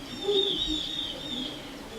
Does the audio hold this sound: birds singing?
yes